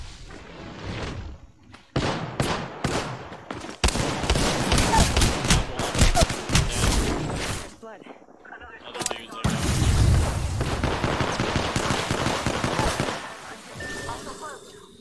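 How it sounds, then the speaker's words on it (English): Gunfire rattles in a hectic Apex Legends firefight, with rapid bursts and heavy volleys separated by brief lulls, loud and close throughout. "Getting shot at."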